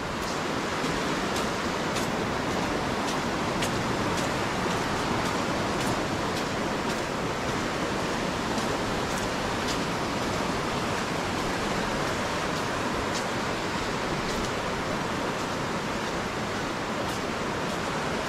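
Khandadhar waterfall near Bonai in Sundargarh, a very high waterfall, roaring as a steady, dense rush of falling water that holds an even loudness throughout with no voices.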